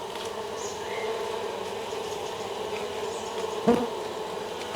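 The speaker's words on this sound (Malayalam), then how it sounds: "ഈ ബാത്റൂമിൻ്റെ ചുറ്റുഭാഗവും നടക്കുമ്പോഴും ഒരു മൂളിപ്പാട്ട് ഇങ്ങനെ കേൾക്കട്ടോ" Stingless bees around a bathroom give a steady, close drone of buzzing that never pauses, with one brief knock partway through.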